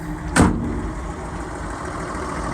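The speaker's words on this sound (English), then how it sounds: "We'll go ahead and fire it up. Cold start, if you will." A 1957 Ford F100 Styleside short-bed pickup starts from cold, with a brief sharp crank burst followed by a steady low idle rumble close by.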